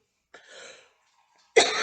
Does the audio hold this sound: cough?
yes